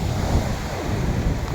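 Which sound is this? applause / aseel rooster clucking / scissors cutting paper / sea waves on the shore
sea waves on the shore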